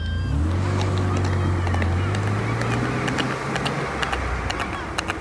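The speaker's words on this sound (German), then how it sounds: "Hier sollte Fuego zwischen den beiden fahrenden Autos entlanglaufen" Cars driving past on a road during a film shoot, a low engine drone sliding in pitch as vehicles move by, with scattered clicks and rustles, moderately close and steady.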